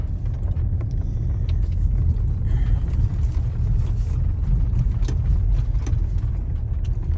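A car rolls slowly along the bumpy lanes of the old North Burial Ground cemetery in Providence, Rhode Island, its steady engine and road rumble heard close from inside the vehicle with no talking.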